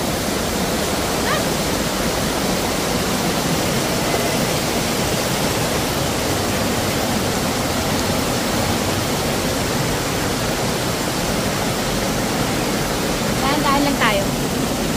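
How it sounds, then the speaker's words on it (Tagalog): Waterfall at Anthurium Falls in Famy, Laguna, a loud continuous rushing roar of falling water, with brief faint voices near the end. "Ito na ang waterfalls."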